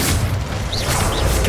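A single Confringo fire spell in Hogwarts Legacy goes off as a short, loud, booming burst of crackling noise.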